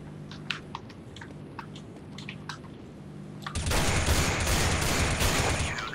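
Rapid gunfire in the video game CS:GO: a few sharp isolated shots early on, then a dense, loud burst of continuous firing through the second half, with no voices.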